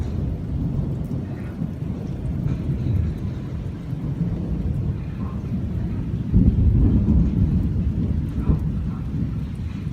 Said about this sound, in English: it is finally a summer thunderstorm outside